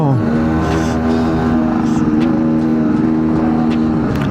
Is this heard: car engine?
yes